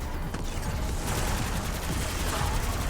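Rapid automatic gunfire from Black Ops 6 Zombies, a dense, loud, continuous burst of shots filling the whole stretch without pause.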